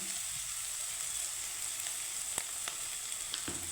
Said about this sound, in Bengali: পেঁয়াজটাকে আমি আমি একটু হালকা ফ্রাই করে নেব